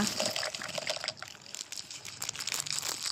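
Water poured over peanut seeds in a container to soak them overnight: a close, splashing gush mixed with crinkly rattling of the seeds, steady throughout.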